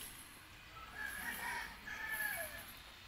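Roosters crowing at a chicken breeding pen for broodcocks on a farm, two drawn-out crows in succession at moderate distance over faint background noise, no talk.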